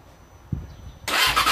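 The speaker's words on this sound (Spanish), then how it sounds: "vamos a intentar arrancar la moto que lleva ya 15 días parada, la R6 de Iván Torete." A Yamaha R6 motorcycle that has sat unused for fifteen days cranks with a short thump and then fires into a loud, raspy idle close by.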